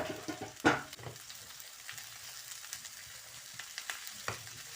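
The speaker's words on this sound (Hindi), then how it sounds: "इनको मैं मक्खन में फ्राई कर दूँ" Bell peppers and tomatoes frying in butter in a pan, a soft steady sizzle with a louder clatter near the start and a few light stirring knocks, no talking.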